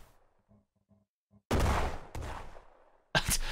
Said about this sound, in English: If I can get a turret shot.